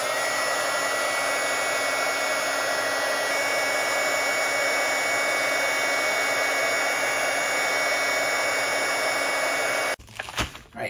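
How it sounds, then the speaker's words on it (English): A heat gun blows steadily and loudly for about ten seconds while shrinking heat shrink tubing over a soldered wire connection on a model build, then cuts off, leaving a few faint handling clicks. "Put our heat shrink over our connection and use our heat gun to secure it all."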